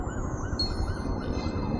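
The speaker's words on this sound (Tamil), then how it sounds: "ஆம்புலன்ஸாக ஃபயர் இன்ஜினா? Fire engine." A fire engine siren wails steadily through dense street traffic noise, its rising and falling tone riding over a low rumble of engines for a couple of seconds.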